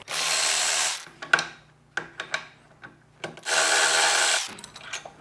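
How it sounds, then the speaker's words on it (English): Nuts being loosened on the brake caliper of a Yamaha R7 motorcycle with a power tool, two long steady whirring bursts separated by short sharp ratcheting clicks and knocks, close and fairly loud with no talking. "We'll hit up these 2 nuts on the brake caliper."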